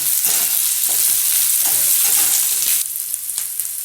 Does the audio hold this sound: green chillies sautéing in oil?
yes